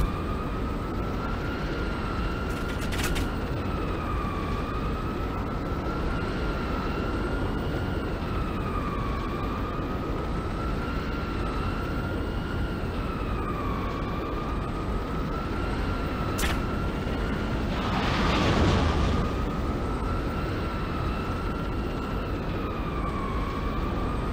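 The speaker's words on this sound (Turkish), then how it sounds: "Uçak kafayı yedi ya." An airplane in the video game Crysis Remastered drones steadily throughout, its wavering tone rising and falling like a siren, with a brief louder rushing burst near the end and no talk.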